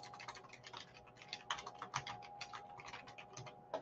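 Rapid, uneven keystrokes on a computer keyboard during a blogging software demonstration, a steady stream of light clicks close by, with no talk.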